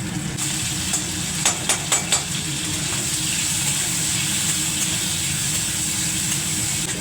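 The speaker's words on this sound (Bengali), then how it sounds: "এদিকে কড়াইতে আমি না চিংড়ি মাছটা ভেজে নিলাম।" Prawns frying in a wok, a continuous loud sizzle with a few sharp spatula clicks and stirring scrapes early on, no voices.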